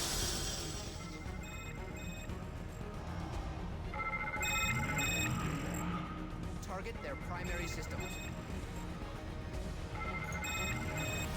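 An electronic, phone-like ringing effect keeps repeating in broken bursts of tones throughout, under nearly continuous talk.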